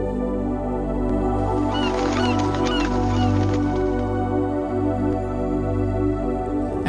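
A flock of birds at Sonbeel gives brief honking, clucking calls for a few seconds, set against a loud, constant low drone that carries on after the calls fade.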